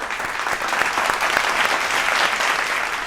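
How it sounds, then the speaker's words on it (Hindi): Loud, steady applause from an audience at a televised Hindi poetry gathering for Independence Day, a dense wash of clapping that carries evenly through the whole stretch without pause. "उनका जोरदार स्वागत- तालियों के साथ"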